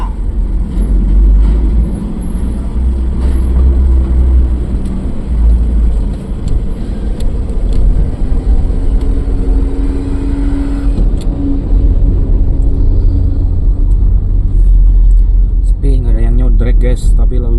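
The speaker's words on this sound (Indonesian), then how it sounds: "Turun ada truk gede, naik ada truk gede kayak gini." Busy road traffic with large trucks on a hilly route toward Puncak, Bogor, a constant low engine rumble and road roar heard from inside a vehicle, under near-continuous talking.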